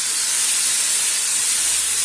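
Chopped onions hit a hot pan of frying liver with an intense, steady sizzle, a bright close hiss that runs on evenly with no talking.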